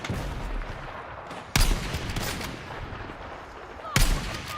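Heavy cannon blasts from a tank in a video game boom twice, a couple of seconds apart, each loud and sharp over a dense rumbling din of gunfire and game noise.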